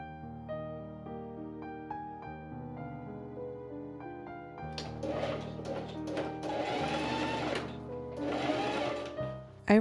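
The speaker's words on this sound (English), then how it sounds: "I pin and machine sew the edge of the hood in place." Sewing machine stitching the edge of a hoodie hood, a steady mechanical whir that runs throughout, with a louder, busier stretch of rapid stitching in the second half.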